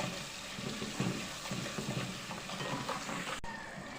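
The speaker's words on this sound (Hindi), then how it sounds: "इसको हम 2 मिनट इस मसाले को भूनेंगे" Masala spices with salt and turmeric fry in a pan for moong dal, a soft steady sizzle with light stirring scrapes, fairly quiet and without speech.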